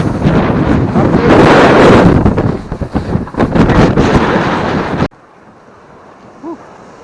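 Strong wind on a beach buffets the microphone in loud, gusting roars for several seconds, then cuts abruptly to a much quieter, faint background rush.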